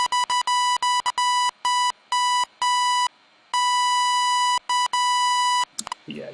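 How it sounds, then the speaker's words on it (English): A bright, buzzy synth riff for Moombahton, made in NI Massive, plays on one note in staccato pulses of uneven length, then stops abruptly into a short low rumble. "I modulate the frequency, which gives the cool whoopy whoopy noise"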